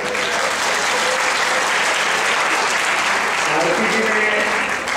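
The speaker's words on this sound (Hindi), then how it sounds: "मैं चाहूंगा कि इतने आप विशेष तालियां" Sustained, loud clapping from a large audience at a national student parliament session, a dense even wash that holds steady throughout with faint voices mixed in.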